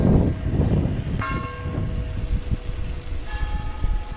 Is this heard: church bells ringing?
yes